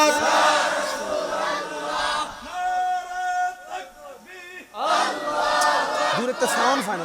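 A large crowd at a religious gathering answers a leader's call with loud, massed takbir chants, voices rising in waves between his calls and ringing out with reverb in an open space.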